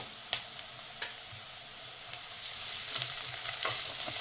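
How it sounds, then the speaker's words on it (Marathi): Ginger garlic paste with coriander fries in hot oil in a pan for a Maharashtrian potato bhaji, giving a soft steady sizzle with a few sharp clicks of stirring near the start. "ही तेलामध्ये चांगली फ्राय करून घ्यायची।"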